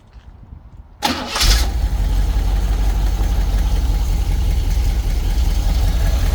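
A small block Chevy V8 in a Jeep cranks and catches after about a second, then settles into a loud, steady, rumbling idle close by.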